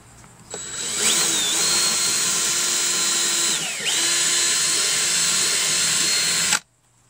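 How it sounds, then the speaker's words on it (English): An electric drill with a 1/8 inch bit spins up and runs steadily with a high whine, dips briefly as the bit bites while boring a pilot hole, then runs on before stopping abruptly. "So I'm just going to start with a 1/8 inch drill bit."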